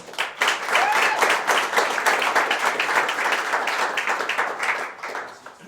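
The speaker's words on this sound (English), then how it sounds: "Please give a big cheer to Stephen Phillips" An audience at a Startup Grind Sydney event claps loudly for a guest speaker, the applause building quickly and holding steady before tapering slightly at the end.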